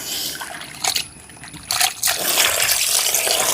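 Water trickles and splashes as fish is rinsed under a running stream at a village kitchen, with brief pauses and then a steadier, louder flow.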